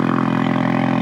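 Ford EcoBoost engine with extra-lift exhaust cams revving hard, a loud, steady burbling exhaust drone held close throughout a short burst.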